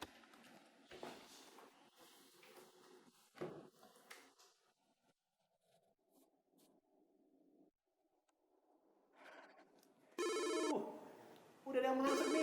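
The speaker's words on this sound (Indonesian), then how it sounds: "Udah ada yang masuk nih, telepon." A telephone rings during a live radio broadcast, with two loud electronic ring bursts near the end that follow sparse studio sounds and a little talking from presenters.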